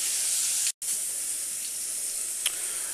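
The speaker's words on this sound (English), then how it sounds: "Those pork chops are frying up nicely." Pork chops frying in a frying pan make a soft, steady sizzle and hiss, with one brief cutout and a small pop near the end.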